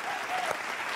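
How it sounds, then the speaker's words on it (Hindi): An audience at a Hindi comedy poetry recital breaks into dense, steady applause, many hands clapping together at an even level throughout, with no clear voices over it. "देखिए सर, कितनी तालियां बज रही हैं इस बात पे"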